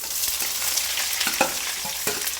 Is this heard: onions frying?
yes